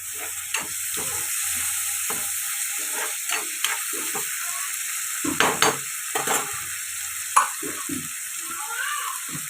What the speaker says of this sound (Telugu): కట్ చేసి పెట్టుకున్న టమాటా వేసి